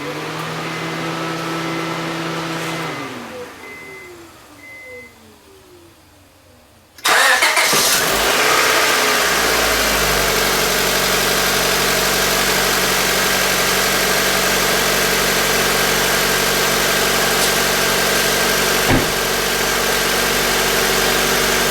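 Car engine cranks and starts after a timing belt replacement, then settles into a steady, loud idle with a constant drone and no squeal; a quiet hum precedes the start.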